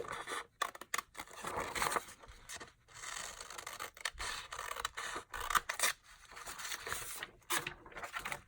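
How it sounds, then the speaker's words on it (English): Close, quiet scissors snip corners off paper for a junk journal, with brisk cuts and rustling, scraping paper handling in between. "I'm just going to snip off the corners like it's a ticket"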